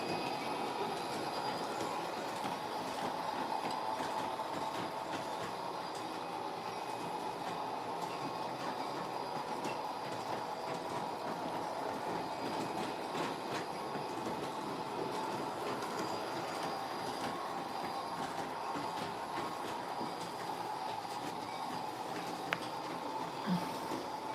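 HO and G gauge model trains run steadily on their layouts for the whole stretch, a continuous rolling rumble with faint wheel squeal and light clicking over the track joints.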